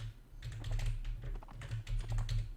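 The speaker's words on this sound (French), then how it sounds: "Il faut que j'appuie sur mon clavier numérique, c'est perturbant." Rapid keystrokes on a computer keyboard's numeric keypad during a Mount & Blade: Warband game session, a steady run of close, crisp clicks over a low background hum, with no talking.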